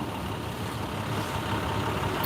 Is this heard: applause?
no